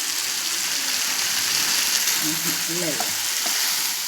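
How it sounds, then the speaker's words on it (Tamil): Mushrooms fry in a pan with ginger garlic paste, giving a loud, dense, continuous sizzle up close while a voice speaks briefly beneath it. "இப்போ காளானை போட்டுடலாங்க."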